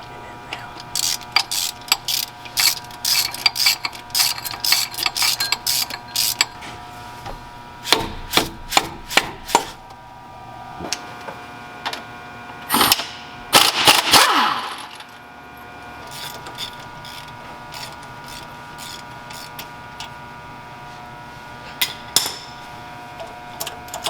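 A crank pulley and harmonic balancer come off an engine in a shop, with sharp metallic clanks, taps and tool strikes in irregular bursts, close by and fairly loud.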